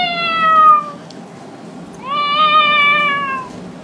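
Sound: singer imitating a cat's meow

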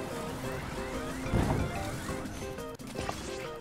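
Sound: character moving through water in the video game Zelda Tears of the Kingdom

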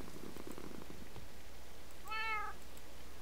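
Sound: cat meowing and purring in the video game Minecraft

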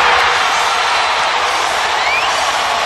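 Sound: basketball crowd cheering after Westbrook play

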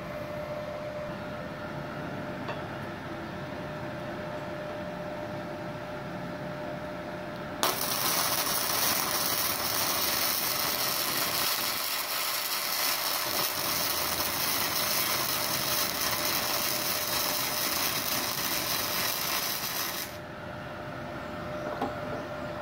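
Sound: MIG welding steel plate without CO2 gas

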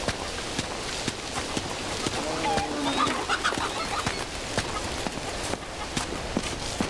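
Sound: chickens clucking in video game Uncharted 2

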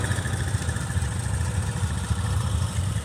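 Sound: Honda Rincon ATV engine idling

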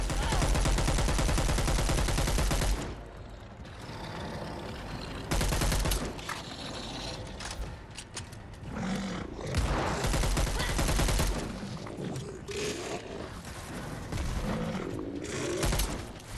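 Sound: gunfire in video game Dead Island 2

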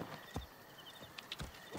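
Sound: horse hooves and whinny in video game Assassin's Creed Origins

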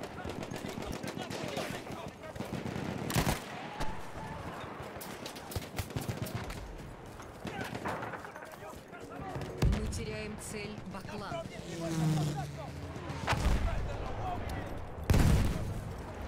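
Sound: gunfire in the video game Battlefield 1

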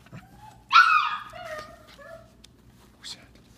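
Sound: Samoyed puppies barking

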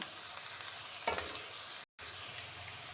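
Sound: chopped onion and curry leaves frying in a pan

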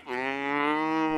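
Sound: cows mooing

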